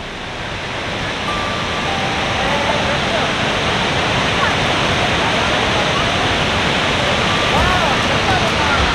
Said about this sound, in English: we have reached the downside of the waterfalls, and you can see it is pretty amazing.